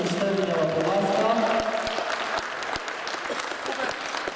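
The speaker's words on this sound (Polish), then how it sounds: "Jeszcze raz ogromne brawa dla zwycięzców." Indoor audience at a hall tournament prize-giving in Siemiatycze applauding the winners, dense steady clapping that carries through the whole stretch, with a voice over the opening moments.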